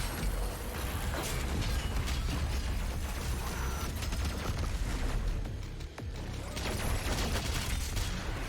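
Super shotgun blasts in Doom Eternal, a dense run of heavy shots and mechanical clatter amid loud continuous combat noise, with no talking.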